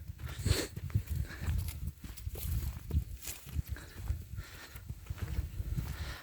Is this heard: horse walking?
yes